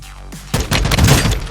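Customized John Wick 2 style gun in a shooting video game, a short burst of loud rapid shots following a brief quieter lead-in, close and punchy.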